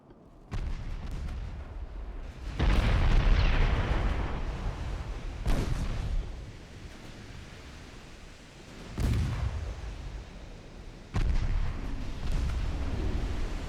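Torpedo hits and shell explosions on a British dreadnought in a naval warfare video game, four heavy booming blasts that each rumble and fade before the next, loud and close with no talk.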